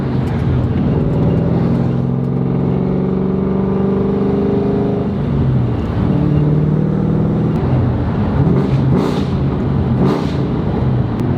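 A Terminator Cobra's engine runs close and loud, its deep, steady rumble rising and falling in pitch with a few revs, and no voices over it.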